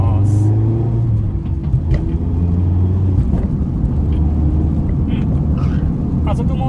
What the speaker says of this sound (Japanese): ちょっとアクセル踏んでみます。